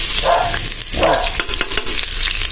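Garlic sizzles in a hot pan at the start of a spaghetti sauce, a steady bright frying hiss with a few stirring scrapes over about two and a half seconds, close and fairly loud.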